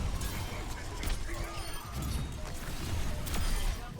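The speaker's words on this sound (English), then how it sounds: "And this is a huge Shatter, right?" Reinhardt's Earthshatter ultimate in Overwatch, a heavy hammer slam to the ground that cracks open during a chaotic team fight, its crashing impact buried in dense, continuous game noise.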